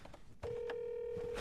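A telephone rings out unanswered, a single steady electronic tone sustained for about a second after a brief pause, with no voices over it.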